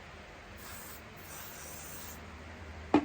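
A spray bottle mists a section of wet, type 4 hair in two short, soft hissing bursts, followed by a brief handling knock at the end. The sound is close and quiet.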